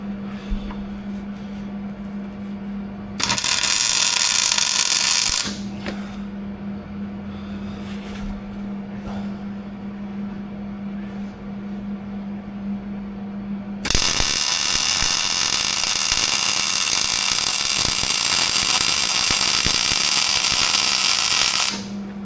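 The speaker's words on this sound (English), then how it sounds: "I kind of just welded a bead there on the block." Welding a bead on an engine block, a harsh crackling sizzle that comes in two long bursts, the second lasting several seconds, between stretches of steady machine hum.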